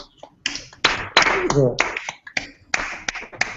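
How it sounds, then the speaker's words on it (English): Scattered clapping from a small audience at a live game show comes in short uneven bursts, with a voice talking between and over the claps. "Please clap for him."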